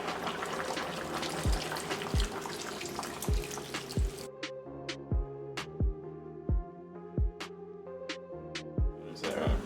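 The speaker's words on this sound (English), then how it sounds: "So I'm gonna add the coconut milk to it." Coconut milk streams into a pot of Jamaican stew peas, a close liquid pour that gives way to a series of distinct drips and plops at a regular pace, with no voices.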